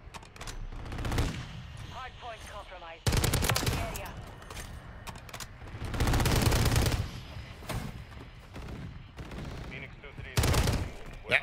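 Rapid automatic gunfire from Call of Duty MW3 multiplayer with an STG44 build, loud bursts of several seconds broken by quieter gaps, with a faint voice in the background.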